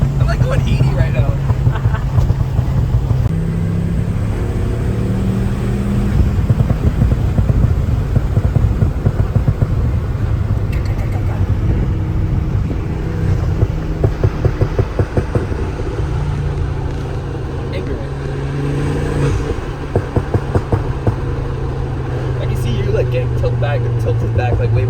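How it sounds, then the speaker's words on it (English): A tuned Volvo C30 with a Hilton Stage 2+ tune drives at speed, its engine a steady low rumble inside the cabin while a person talks over it throughout. "I'm driving the car right now."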